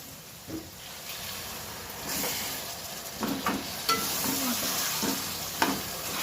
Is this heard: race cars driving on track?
no